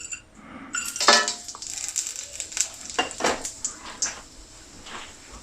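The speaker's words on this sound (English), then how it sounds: "now I'm going to add some garam masala, whole garam masala" Whole garam masala spices, including bay leaf, cinnamon stick, green cardamom and black peppercorn, drop into a hot cooking pot, giving a brief burst of sizzling followed by scattered clinks and crackles.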